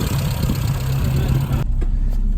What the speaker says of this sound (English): Obviously the engine there just ticking away nicely.